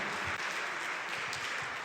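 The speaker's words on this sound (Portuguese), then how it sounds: "Dê uma salva de palmas ao Senhor." A church congregation applauds in praise during a worship service, a steady dense wash of clapping that holds at moderate level for about two seconds with no voices over it.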